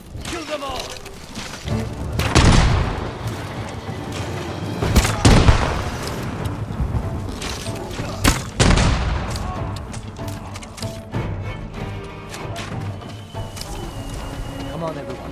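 Gunfire and booming explosions erupt during a fort ambush in the video game Ghost of Tsushima, loud bursts and heavy thuds dense over a continuous battle din, with shouted voices mixed in.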